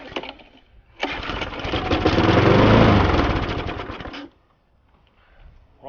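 A push lawn mower's small engine, pulled from a trashed machine, catches after a pull and runs loudly for about three seconds with a rough, rattly drone before cutting out, leaving near silence.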